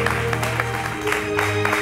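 Audience clapping fills the short stretch, a steady patter of applause with a faint murmur beneath it, fairly loud and close.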